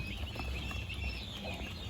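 Fifteen-day-old turkey chicks chirp and peep together in a farm brooder, a steady chorus of soft, overlapping calls over low background noise.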